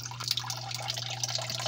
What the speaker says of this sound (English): now water starts to drip